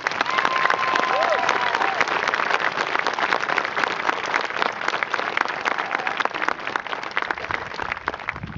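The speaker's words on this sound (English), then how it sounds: "please, faculty and staff, also rise so that we may give you a round of applause" Graduating-class audience at a 2012 high school graduation ceremony gives faculty and staff a long round of applause, dense crackling clapping with some crowd murmur that stays loud throughout and thins slightly toward the end.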